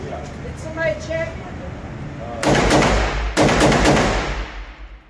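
Rapid bursts of shots from a Springfield Armory Hellion bullpup rifle in .223/5.56, fired as fast as possible at an outdoor range; two loud, close volleys of several cracks each, following a quieter stretch with faint voices.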